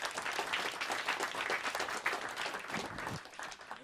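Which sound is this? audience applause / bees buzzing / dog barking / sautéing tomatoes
audience applause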